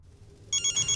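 Telephone ringing from an unknown number: quiet room, then a loud electronic ring starts halfway through, repeating in quick pulses.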